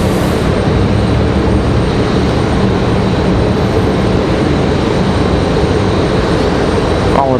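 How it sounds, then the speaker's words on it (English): An American Airlines Airbus A321neo jet arriving at Raleigh-Durham International Airport, a loud, constant broadband engine roar that stays steady for several seconds with no talk. "That one, another neo A321 arriving in 1 minute."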